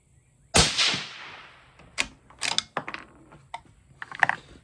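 A single sharp rifle shot cracks out close by during a Vector Optics Continental 6-48x56 scope test, followed by a decaying report and a few lighter mechanical clicks and knocks.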